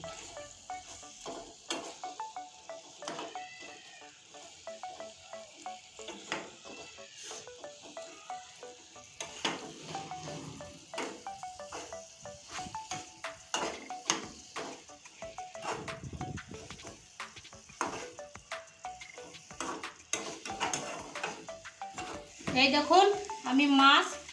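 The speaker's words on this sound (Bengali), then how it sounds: "মশলা একসঙ্গে আমি ভেজে নিয়েছি দেখুন মাছগুলো মশলার সঙ্গে মিশে গিয়েছে" Fried fish being stirred into masala for a potato biryani, with steady sizzling and repeated scraping stir strokes throughout, growing louder near the end.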